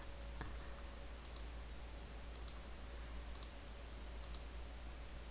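Soft, close mouse clicks, landing in a few quick pairs over a low steady hiss while a retweet button is pressed on a computer, with no voices.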